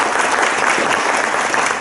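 A crowd at a youth soccer club evening event claps steadily and fairly loudly, the dense applause holding at an even level throughout with no talking over it.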